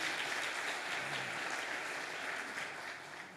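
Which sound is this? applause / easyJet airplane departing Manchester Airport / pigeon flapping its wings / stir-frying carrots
applause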